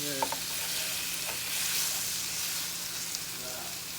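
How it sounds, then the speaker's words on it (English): Onions cooking down in a pan for creamy onion gravy, with a utensil scraping browned bits off the bottom: a steady close sizzle with occasional scrapes and clinks, and brief faint voice in places. "I'm gonna go ahead and cook these down some. Scrape any of the bits that are on the bottom."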